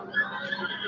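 A horse whinnies in The Legend of Zelda: Breath of the Wild, one short, clear neigh lasting about a second, close and alone.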